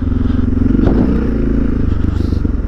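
A Suzuki DR650 motorcycle fitted with an FMF exhaust rumbles steadily at close range while ridden on a dirt property trail, its engine note low and continuous with a brief surge near the middle.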